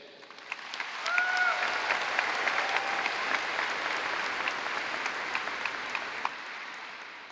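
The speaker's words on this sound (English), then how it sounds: "Let's give a round of applause to all the graduates with us here today." A crowd applauding graduates at a high school graduation breaks into loud, sustained clapping that swells after a brief whistle-like tone and holds steady, with faint crowd murmur underneath.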